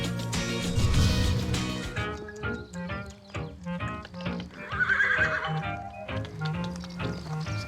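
Horses neigh and whinny at a stud farm in the Pays d'Auge, Normandy, with loud close calls and hoof clip-clop, the strongest whinny near the start and another shrill call midway, and no talk.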